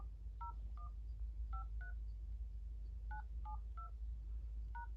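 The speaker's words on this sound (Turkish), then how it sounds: "o telefonda yıldız 21 yıldız yapıyoruz. Numaraya tuşluyorsunuz." A phone keypad beeps out a run of DTMF tones while a call-forwarding code is entered: about eleven short, evenly spaced electronic two-tone beeps in small bursts, close and clear over a low steady hum.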